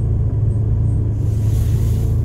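A supercharged Fiat Punto with an Aisin AMR500 blower idles. It gives a steady, loud, low engine rumble with no revving and nothing else heard.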